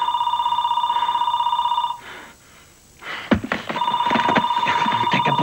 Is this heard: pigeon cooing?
no